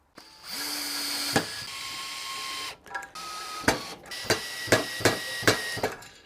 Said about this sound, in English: Let's screw that in place now.